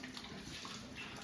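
Water pours steadily out of drain holes in a truck bumper that had filled completely, producing a continuous close rushing and splashing that stays even throughout.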